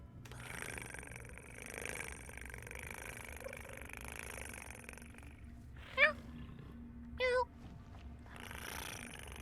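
A cat purr sound effect plays as a stream alert during a Pathfinder: Wrath of the Righteous session, sounding as two short rising chirpy bursts over a low steady background hum.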